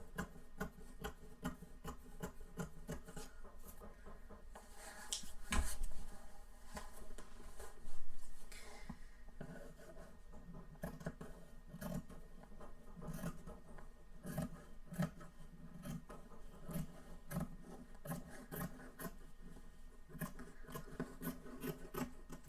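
Dull fabric shears cutting through cloth, a close series of rasping snips and scrapes repeating in an uneven rhythm, with a couple of louder crunchy cuts near the start.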